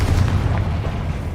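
A Confringo fire spell bursts as a deep, continuous rumbling boom in the Hogwarts Legacy video game, loud and heavy for its short length with no voices.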